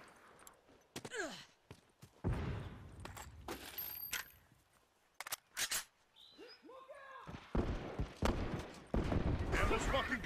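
Gunfire in The Last of Us video game: several sharp, loud shots spaced irregularly, mixed with footsteps, rustling and a voice talking between the bursts.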